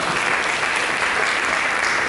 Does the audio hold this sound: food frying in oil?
no